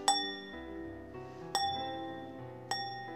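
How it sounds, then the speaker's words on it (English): A crystal wine glass is tapped three times, each clink ringing out with a clear bell-like tone that slowly decays, faint and close with no talking. "if it's crystal it'll make a bell sound or a clinking"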